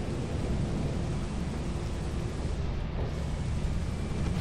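Steady heavy rumbling storm noise in the video game Lethal Company, a continuous loud wash of low thunder and rain-like hiss with no distinct claps, filling the whole stretch evenly.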